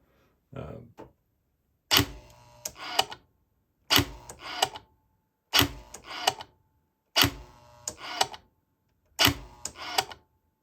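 Six sharp mechanical clicks at regular two-second intervals from the shutter of a Chevy throttle actuator control with a P1516 fault, each a quick snap followed by a brief rattle, close by with silence between.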